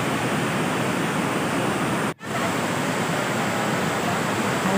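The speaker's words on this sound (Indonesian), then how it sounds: "airnya deras banget ya" Strong, heavy rushing of a waterfall at a nature spot, a loud continuous roar close by with a brief dropout partway through and no talking.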